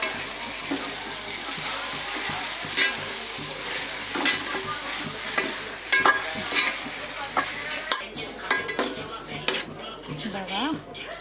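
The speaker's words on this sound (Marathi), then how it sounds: "याला आपण छानपणे मिक्स करून घेऊया बारीक गॅसवरती" Laddu mixture is stirred in a pan over a low gas flame. A spatula scrapes and knocks against the metal in a busy rhythm over a gentle sizzle, with a brief voice toward the end.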